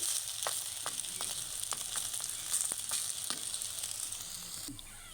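Sarvapindi, an Andhra-style rice flour flatbread, frying in a hot pan with a steady continuous sizzle and occasional sharp crackles, close and fairly loud, with no talking.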